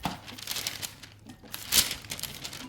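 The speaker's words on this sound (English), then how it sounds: "I'm using this baking paper to flatten the burger patties" Baking paper crinkles and rustles up close as burger patties are flattened beneath it, an uneven run of soft crackles with one sharper crinkle, alone and fairly quiet.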